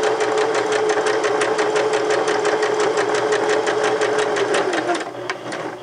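A sewing machine runs a zigzag stitch along a seam, a fast steady mechanical clatter held loud and close for several seconds before slowing to a stop.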